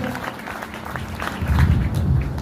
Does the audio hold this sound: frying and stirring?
no